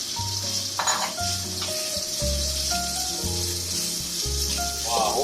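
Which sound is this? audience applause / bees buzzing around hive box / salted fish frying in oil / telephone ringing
salted fish frying in oil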